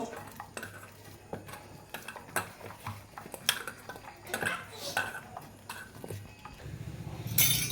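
Pitha dough mixed with black cumin is kneaded by hand in a bowl, giving irregular close soft slaps and squelches with occasional clinks against the bowl, with some talk.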